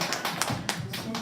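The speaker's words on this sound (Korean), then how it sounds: "박수 한번 해주세요. 박수." A church congregation at a Sunday worship service claps in a short, loose burst of sharp hand claps, a handful of uneven hits within a second, with a voice murmuring underneath.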